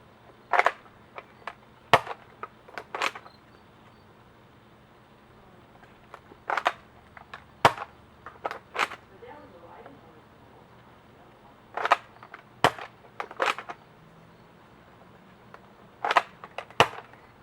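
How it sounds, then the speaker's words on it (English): A Buzz Bee Predator toy blaster fires foam darts, including Elite, Dart Tag and Buzz Bee darts, as sharp, separate snapping shots in small clusters, each followed by brief mechanical clicks of priming, with quiet gaps between volleys. "I'm going to be shooting 4 different types of darts"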